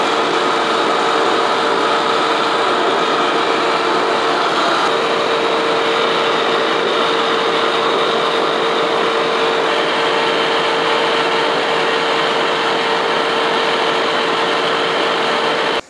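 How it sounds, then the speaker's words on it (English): A drill bores bolt holes in a metal workpiece for a shop-made vertical shaper tool holder, a loud steady machine whine and grinding noise that runs unbroken throughout with no talking. "I'm gonna start drilling for my bolts, or my threaded holes"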